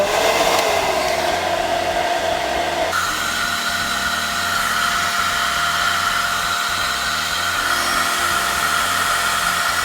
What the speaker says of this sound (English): I take my blow dryer and I take it on the low warm setting, and I blow downwards like this